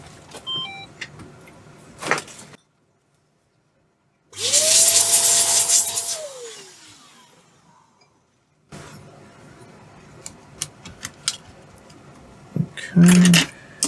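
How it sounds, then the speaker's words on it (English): Compressed air blasts dust from a laptop fan during an Acer power jack repair: a loud hiss lasting about two seconds with a rising fan whine that spins down, set between quieter handling noises and clicks. "I'm just going to blow the fan out."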